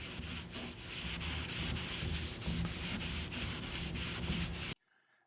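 Rapid, rhythmic back-and-forth rubbing of a cloth soaked in acetone scrubbing old finish off a solid maple dresser, loud and close, stopping abruptly into near silence.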